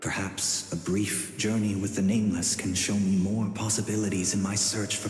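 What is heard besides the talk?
No distinct noise like a dog, phone or traffic.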